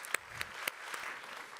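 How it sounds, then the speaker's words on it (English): Applause at an award ceremony of a deep tech summit, a few sharp claps standing out over a faint, thin patter of clapping that fades as it goes. "Let's give them an applause"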